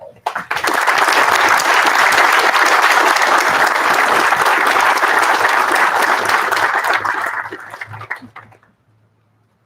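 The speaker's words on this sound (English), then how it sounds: "Please join me in a warm round of applause for the Kingslag family." Audience applause at a US Army Corps of Engineers Walla Walla District change of command ceremony, a loud sustained round of clapping lasting about eight seconds before fading out.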